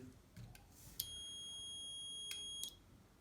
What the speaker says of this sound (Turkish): Yani ölçü aleti bip sesi verecek zil çaldığında.